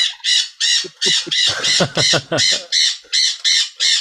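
A bird squawks and caws loudly over and over, harsh repeated calls in a steady rhythm, close and dominant throughout.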